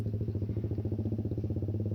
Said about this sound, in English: some cars were making way for me because they could hear my exhaust